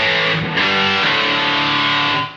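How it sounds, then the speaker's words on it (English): An electric guitar plays through an ART SGE multi-effects rack unit on a distortion preset with early reflection reverb, for an 80s tone. A loud, sustained distorted chord is struck again partway through, rings on its own, then cuts off. "I think I like this patch because it was just the distortion with a little bit of like early reflection reverb"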